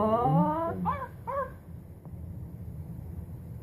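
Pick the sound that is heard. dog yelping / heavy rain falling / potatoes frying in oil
dog yelping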